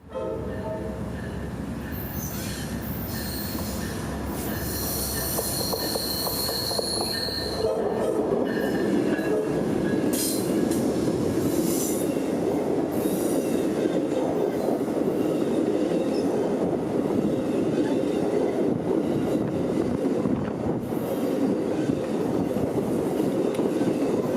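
A passenger train rolls past close by, wheels rumbling and rails clacking, with a brief high squeal and a horn note as it approaches and continues steadily.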